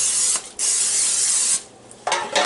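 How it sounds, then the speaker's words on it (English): Short hissing bursts of aerosol cooking spray onto a baking pan, three sprays separated by brief pauses, close and loud with no talking. "I'm just going to spray my pan."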